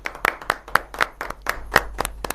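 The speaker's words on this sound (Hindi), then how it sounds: "तो एक बार तालियों से हम इसका कार्यक्रम का शुरुआत करते हैं" A small audience claps to open an Independence Day poetry gathering, sharp handclaps landing in a loose, steady rhythm, close and fairly loud, with no voices over them.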